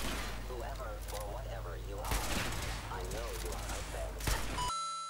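Hunting rifle shots from the Capital Wasteland mod in Fallout 4, fired at robots: two sharp cracks about two seconds apart over a steady bed of game noise and music, with a voice talking throughout.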